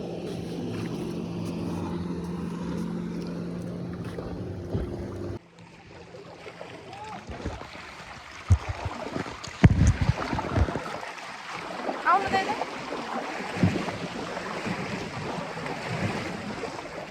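A boat moves through river water at Barahachhetra in Nepal, with a steady wash of water and scattered sharp splashes against the hull. It starts loud and continuous, then drops to a quieter churn broken by intermittent slaps of water.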